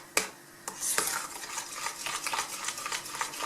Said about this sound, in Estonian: Ja segan segamini.